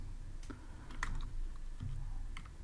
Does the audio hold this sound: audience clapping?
no